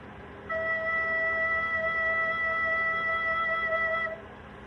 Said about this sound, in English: When you play an E, it should sound like this.